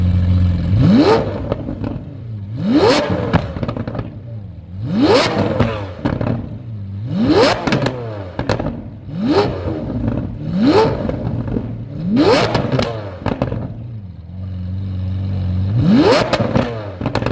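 A car fitted with a new aftermarket exhaust revs repeatedly, about seven sharp throttle blips rising and falling in a steady rhythm, loud and close, with idle rumble between each rev.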